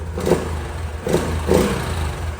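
A Honda Trail 125 motorcycle with its stock exhaust idles with a quiet, low exhaust note and is blipped three times in short revs, close by.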